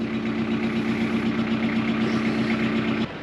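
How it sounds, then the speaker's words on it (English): A tractor engine idles close by with a constant low hum and drone, then drops in level abruptly just before the end. "there goes Darcy in the tractor up the hill"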